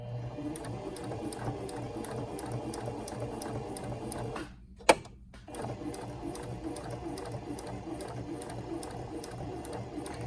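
A sewing machine runs steadily with a rhythmic mechanical whir, stitching forward and then in reverse using the reverse button, with a brief pause and a sharp click midway through.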